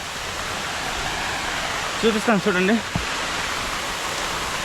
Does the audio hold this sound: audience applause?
no